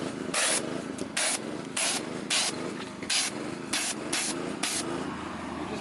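Repeated short bursts of compressed air blowing debris while detailing a commercial work truck, about nine blasts in quick succession, loud and close, with a low rumble underneath.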